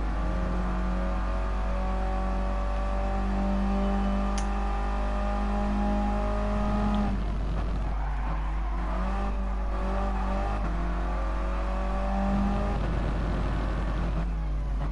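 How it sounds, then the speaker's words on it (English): Original Mini Cooper racing engine in GT Sport, a steady droning hum that rises and falls with acceleration and shifting, loud and continuous throughout, with a rougher burst of revving midway. "it's a very fun car to drive. It's the original Mini Cooper."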